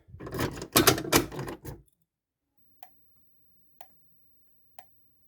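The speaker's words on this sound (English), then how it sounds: "let's go reset that pull station because I think I forgot" A key-reset fire alarm pull station, brand new, being reset with golden keys: a loud burst of rattling, clicking mechanical handling for about two seconds, then three faint, evenly spaced single ticks in near silence.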